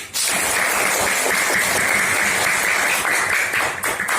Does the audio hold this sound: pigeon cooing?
no